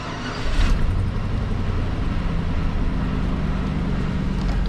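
A car engine fitted with a new cold air intake and stainless headers cranks and fires, then settles into a steady, close idle rumble.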